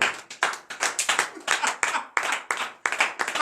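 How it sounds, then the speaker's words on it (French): Congregation clapping in acclamation at a morning prayer service in Benin, close, loud claps in a brisk rhythmic series of bursts, alone without talk. "Donnez l'acclamation encore à notre Seigneur Jésus qui est merveilleux"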